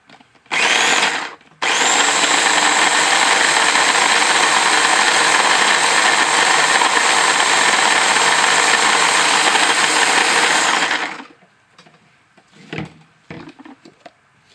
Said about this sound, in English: Now our ninja is full, and we are going to grind this up.